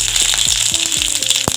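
Urad dal and curry leaves frying in hot oil for Tamil carrot poriyal, a steady close sizzle with crackling pops and one sharp burst near the end, no talk.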